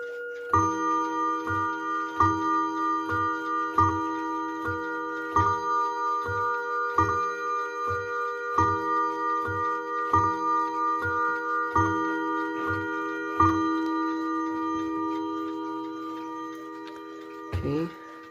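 Several Chinese clocks in a home clock collection tick steadily together, mixing a regular loud tock about every second and a half with faster ticks. A sustained hum lies underneath, and the beats stop near the end.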